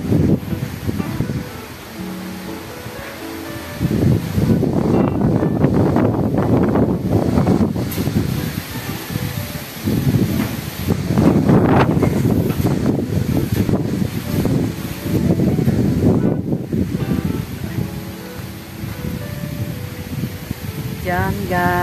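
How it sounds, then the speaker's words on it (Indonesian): Strong wind gusting behind a house among coconut palms, a rushing roar that swells and fades in surges, with a person talking at times. "Oh, angin kuat ya tuh."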